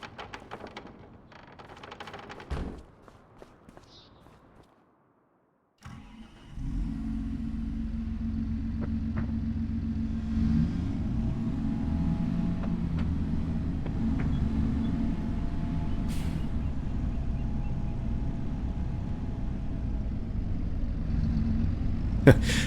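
A farm tractor engine starts after a few seconds of quieter handling noises, then settles into a steady, close, low rumbling idle that continues unbroken.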